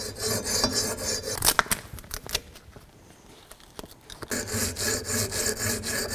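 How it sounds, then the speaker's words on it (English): Sandpaper rubs back and forth along a Damascus steel kris dagger blade, rhythmic raspy strokes that are loud at the start and end and thin out to soft scratching in the middle, with no talking. "To be honest, it mostly looks like we're just scratching the sandpaper away."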